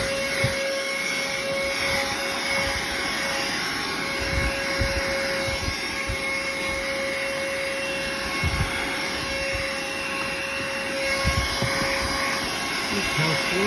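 A cordless car vacuum cleaner running with a plastic nozzle, giving a steady, loud electric whine with a constant high tone and rough airflow rush underneath, uninterrupted throughout.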